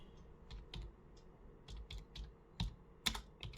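Typing on a computer keyboard, a run of quiet, irregular key clicks with a few sharper taps near the end, close by and alone without speech.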